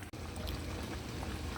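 Water is poured into pork steak cooking in a pan, making a steady trickling, sizzling wash at moderate loudness.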